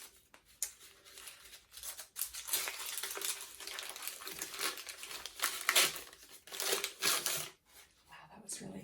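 Brown paper packaging tucked around a small oil bottle is peeled open, with intermittent close crinkling and tearing rustles while a voice talks over it.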